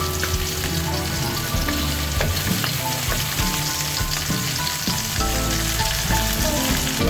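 Onion frying in a hot pan while cooking Cebu-style balbacua, a dense, continuous loud sizzle with crackling pops, close up and steady throughout.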